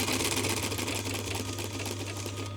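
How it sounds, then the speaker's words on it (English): Sewing machine stitching folded fabric over piping cord with a piping foot, a steady close mechanical whir with fast rhythmic needle chatter running throughout, unbroken by any talk. "and then just sewing."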